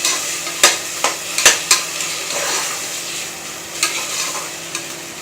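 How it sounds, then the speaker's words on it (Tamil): Ginger and garlic sautéing in a pan for mutton gravy, a steady close sizzle broken by several sharp scrapes and clinks of a spoon stirring against the metal. "இது கொஞ்சம் நல்லா பச்சை வாடை போகிற வரைக்கும் நல்லா வதக்கணும்"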